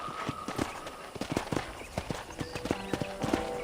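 Horse hooves clip-clop at a steady trot in the Red Dead Redemption video game, with a rhythmic run of close, moderately loud hoofbeats and no talk.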